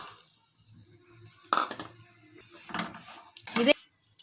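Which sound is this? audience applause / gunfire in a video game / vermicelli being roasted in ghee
vermicelli being roasted in ghee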